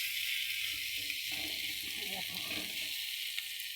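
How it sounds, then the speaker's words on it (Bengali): Meat frying with slit green chillies in a pan, a steady close hiss and sizzle with soft stirring scrapes, a voice talking faintly under it. "দেখো কাঁচা লঙ্কা দিয়ে আমি মাংস রান্না করছি"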